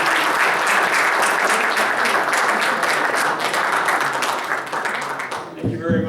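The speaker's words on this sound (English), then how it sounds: "let's give a big round of applause for him" Seminar audience giving a loud, sustained round of applause, dense clapping filling the room for several seconds before tapering off as a voice begins to speak near the end.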